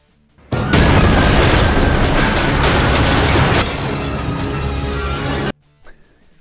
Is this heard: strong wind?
no